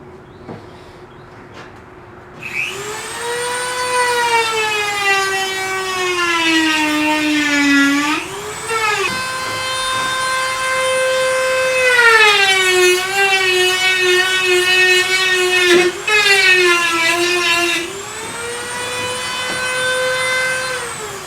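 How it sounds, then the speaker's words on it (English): A Dremel rotary tool grinds a groove into wood in three bursts of high, whining buzz whose pitch dips and rises as it bites into the wood. The bursts are separated by short pauses, and the tool is loud and close. "I'm just going to use my Dremel tool."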